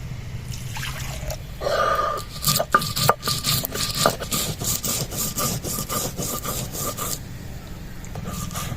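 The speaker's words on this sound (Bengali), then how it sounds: "সরষেটা বেটে নিচ্ছি।" White mustard seeds are ground into paste by hand, producing repeated rasping, scraping strokes in a steady back-and-forth rhythm, close and fairly loud.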